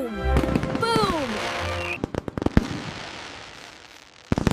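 Fireworks at a summer night show, a cluster of sharp cracks and bangs in the middle and again at the end, preceded by a voice speaking and gliding tones.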